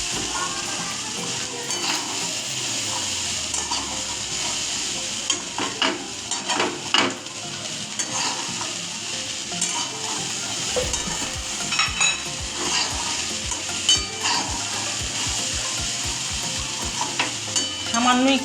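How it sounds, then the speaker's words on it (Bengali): Chickpea ghugni stirred in a pan, a continuous sizzle with repeated scraping and clinking strokes of a utensil, close and steady throughout. "এবার 2-1 মিনিট একটু ভালো করে নাড়াচাড়া দিয়ে নামিয়ে ফেলবো।"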